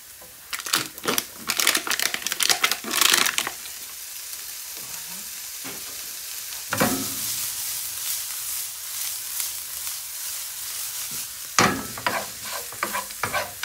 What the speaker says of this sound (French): Donc là, on va mettre nos lardons.